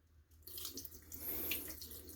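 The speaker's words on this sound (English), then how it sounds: "you pour in the water" Cold or room-temperature water pours into a bowl of rice being rinsed for donburi, a steady close splashing stream that starts abruptly and runs on without talk.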